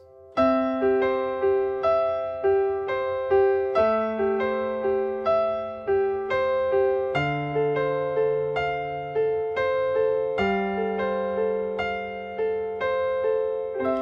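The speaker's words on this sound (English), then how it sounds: "So I'm playing it up higher on the piano again." Piano chords repeated in a quick, even sixteenth-note pulse, shifting through a chord sequence with a bass note under each change.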